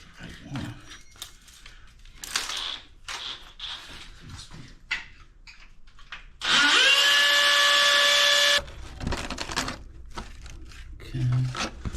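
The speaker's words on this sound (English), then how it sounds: "Drill a new hole." A power drill whines loudly for about two seconds, boring steadily into a toilet flange, amid scattered clunks, rustling and handling noises before and after.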